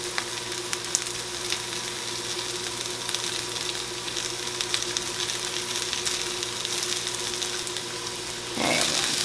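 Kiszka, a Polish blood sausage with its casing peeled off, fries and is broken up in a pan. A steady, close sizzle runs throughout, with a brief scraping stir near the end.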